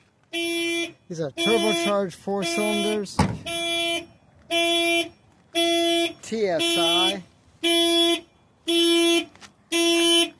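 A Dodge Conquest's car alarm sounds in loud, regular electronic beep bursts at a Carlisle car auction, repeating steadily, while someone talks over the early part.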